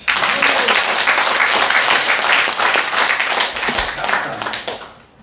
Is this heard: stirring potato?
no